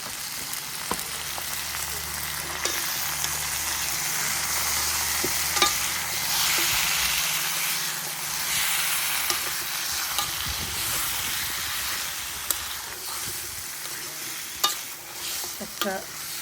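Food cooking in a pan on a cement stove gives a steady sizzle and frying hiss with occasional stirring clicks and scrapes, close and moderately loud, with no talking.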